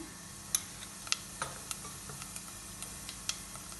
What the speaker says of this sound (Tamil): இப்போ எண்ணெய் சூடாயிட்டு கொஞ்சம் கடுகு போடுறேன்.